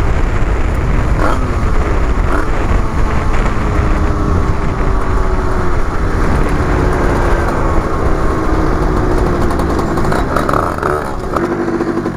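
A Beta EN 86 Top Alu motorcycle engine idling near a lake, left running with no rider input; a continuous close, steady mechanical drone with slight clattering and small rises in pitch, no voices.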